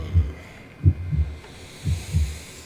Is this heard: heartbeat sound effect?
yes